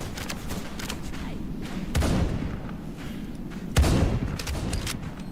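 Two muffled gunshots ring out in a shooter video game about two seconds apart, each a short, sharp burst over a steady low rumble of game ambience.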